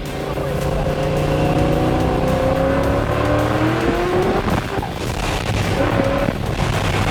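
A race car passes loudly on a track, its engine note rising and then dropping as it goes by, with crowd noise and voices around it.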